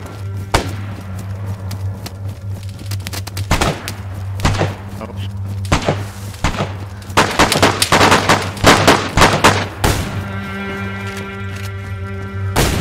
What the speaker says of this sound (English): I hear a shotgun in that.